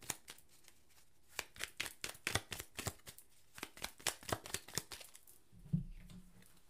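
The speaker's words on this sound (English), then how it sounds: "So let's pull a clarifying card for the Knight of Cups." Tarot cards are shuffled by hand in quick, crisp riffling bursts, a close run of papery slaps and flicks that ends in a brief soft thump, with no talk.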